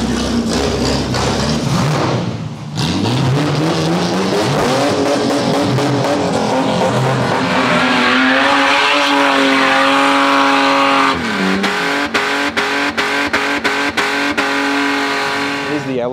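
A car with a 5.3-litre LS engine doing a burnout at an Australian burnout event, the engine revving hard and the tires squealing loudly and continuously, with a few sharp pops near the end and voices around.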